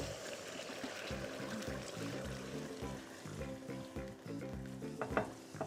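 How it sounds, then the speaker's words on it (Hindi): Chicken for shashlik sizzles and crackles in a hot pan, with brisk, steady frying and spattering pops throughout. A tonal melodic layer runs underneath. "ये पैन अच्छा खासा गर्म हो गया है और उसकी हल्की हल्की छींटें भी अब आनी शुरू हो जाएंगी"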